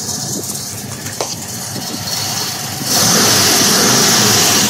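A 1972 Chevrolet Camaro Z28 in mint condition idles with a loud, close engine rumble, then revs sharply into a sustained, roaring rise in the second half.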